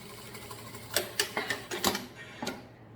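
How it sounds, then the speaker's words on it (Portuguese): A sewing machine stitches a seam on striped fabric, producing a quick run of sharp, evenly spaced mechanical ticks close by in a quiet room, with no talking. "Passei aqui uma costurinha com pé de máquina"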